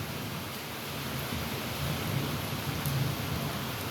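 Light evening rain falling outdoors, a steady soft hiss of drops with a faint low rumble underneath, fairly quiet and continuous throughout.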